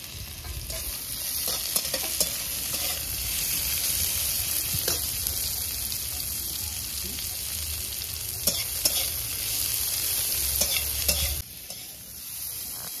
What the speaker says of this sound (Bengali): এবার আমি ওর মধ্যে পেঁয়াজটা তুলে দিচ্ছি।